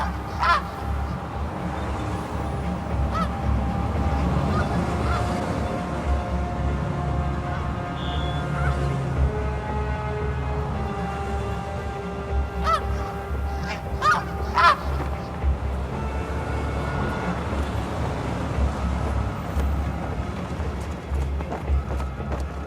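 Migrating birds calling over New York City, scattered honking calls rising above a dense, steady urban rumble, some near and some distant, with no voices.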